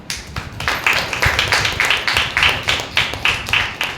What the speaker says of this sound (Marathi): देवासाठी टाळ्या